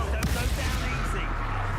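A Confringo blasting spell cast in Hogwarts Legacy lands as a sharp explosive crack followed by a dense, rumbling burst that fills the short moment, loud and close.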